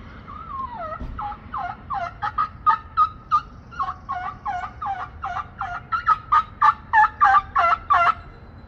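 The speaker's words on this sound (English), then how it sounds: "Heard a stray gobble over there" Wild turkeys gobbling in cold woods, a string of loud rattling gobbles repeating in quick bursts, some closer and sharper than others, carrying clearly through an otherwise quiet outdoor background.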